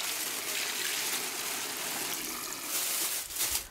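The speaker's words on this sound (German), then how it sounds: "jetzt gieße ich erstmal die 3 Liter Wasser" Three liters of water poured into a plastic bag holding a whole turkey, a steady gushing stream running continuously and swelling briefly near the end.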